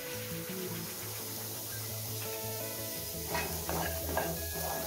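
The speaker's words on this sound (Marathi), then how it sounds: "आपण आधी इथे कढई तापून घेतली, त्यामध्ये आपण कांदा टाकूया" Onion frying in a hot kadhai, a soft sizzle running beneath stirring and light clinks of utensil against the pan, with a brief rise in activity toward the end.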